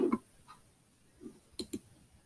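A computer mouse clicked during logo design work, with two sharp, close clicks in quick succession near the end, a few softer taps before them and no talking.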